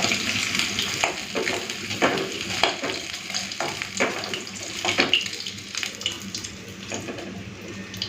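Oil sizzles steadily in a pan as katla fish fries, with clinks and stirring scrapes now and then and no voices.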